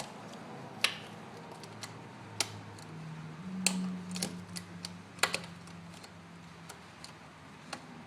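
Bolts on the fuel rail of a Polaris RZR XP Turbo are loosened by hand, producing faint sparse metallic ticks and clicks spaced irregularly against a quiet background.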